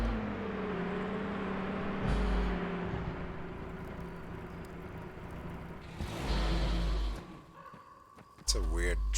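A car engine in the zombie survival game Once Upon A Time In Livonia hums and whirs at a steady pitch, with a few abrupt bursts of louder noise and a sharp clunk near the end.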